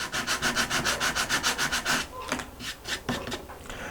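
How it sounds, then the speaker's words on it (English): Rhythmic back-and-forth sanding on a rustic wooden shutter, quick regular strokes close by, then a few slower, irregular scrapes. "by hitting it with a little bit of a sanding, you allow it to sit flush"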